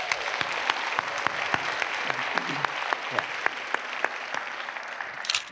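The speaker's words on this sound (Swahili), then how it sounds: "Wapi makofi ya Sandra Lang?" Clapping for Sandra Laing rings out as a steady, evenly spaced run of sharp claps, quite regular in rhythm, over a faint hiss with no talking.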